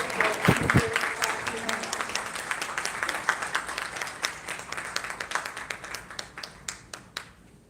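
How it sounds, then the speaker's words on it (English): A crowd at a film festival award ceremony applauds a guest being welcomed to present, loud dense clapping at first that thins out into scattered claps before stopping. "Let's have a good round of applause"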